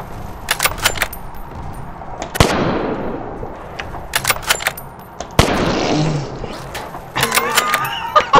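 Gunfire in the WW2 sniper video game H-Sniper WW2: sharp, loud shots with ringing tails that ring out a few seconds apart, and short bursts of game effects in between.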